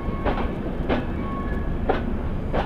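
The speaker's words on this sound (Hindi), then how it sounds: "चलिए छपरा से निकल चुकी है अपनी ट्रेन" Passenger train pulling out of Chhapra station, with a steady rolling rumble and rhythmic clickety-clack of wheels over rail joints at roughly one-second intervals, heard from on board without any voices.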